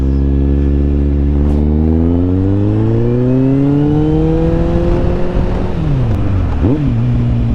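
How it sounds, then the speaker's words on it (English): A loud, close motorcycle engine revs during a downshift, pitch climbing steadily, then drops sharply and blips back up with an over-revved rev match as gears shift. "Oh, that was a bad rev match. I revved too much."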